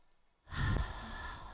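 A single audible exhale during a seated chair yoga session, a soft, close breath out that swells and trails off after a short quiet start.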